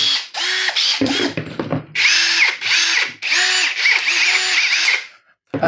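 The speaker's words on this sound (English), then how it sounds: "get yourself an impact driver and enjoy it, because it's a beautiful tool" Close, loud bursts of an impact driver whirring and rattling in short repeated runs with brief pauses between them.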